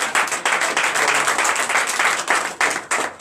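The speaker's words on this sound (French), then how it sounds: "Donnez de vives acclamations à notre Seigneur" Congregation at a Sunday worship service clapping and cheering in a steady, dense burst that fills the room throughout.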